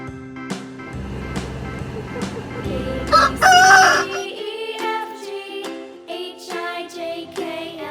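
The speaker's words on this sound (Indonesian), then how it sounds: "Ayam." A rooster crows loudly in a long cock-a-doodle-doo, set among other short clucks and bird calls.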